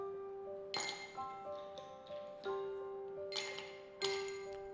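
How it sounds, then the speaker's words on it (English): Ice cubes drop into a glass for iced Dalgona coffee, giving a series of about six bright clinks with ringing glassy tails, spaced unevenly against a quiet kitchen background. "So first, add a few ice cubes."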